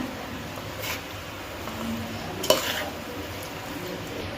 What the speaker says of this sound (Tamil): அந்த கிரேவியோடு அப்படியே மிக்ஸ் பண்ணி விட்டுருங்க